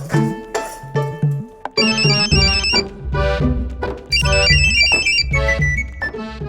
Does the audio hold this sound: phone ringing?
yes